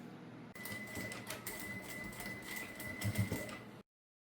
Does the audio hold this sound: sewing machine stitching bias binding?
yes